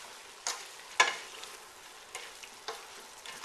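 Vegetables stirred in a pan on high heat, a soft steady sizzle broken by several sharp scrapes and clacks of the utensil, close and clear with no voices.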